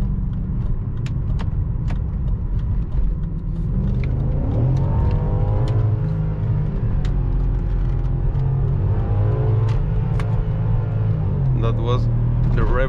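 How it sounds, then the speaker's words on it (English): A V8 car engine revs hard against an aggressive rev limiter, with a loud rumbling drone, rising and falling engine notes and sharp, repeated cut-out pops throughout. "That was the rev limiter, guys. It's really aggressive right now, not like it was before."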